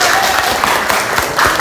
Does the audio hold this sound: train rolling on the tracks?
no